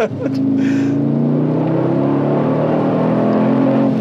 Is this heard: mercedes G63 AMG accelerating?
yes